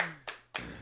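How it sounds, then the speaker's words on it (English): Two sharp claps ring out close by, spaced about a quarter second apart, as people applaud a guest named Steven on a podcast set. "Let's clap it up for Steven, man."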